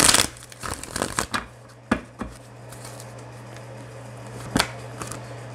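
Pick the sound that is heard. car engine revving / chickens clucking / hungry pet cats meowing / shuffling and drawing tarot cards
shuffling and drawing tarot cards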